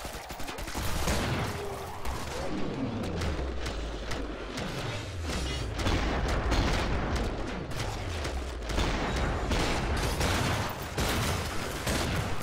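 Rapid gunfire from shooting in the video game Killing Floor, on a biotics lab map in a narrow hallway, with dense overlapping bursts and booming shots filling the whole stretch at steady high loudness.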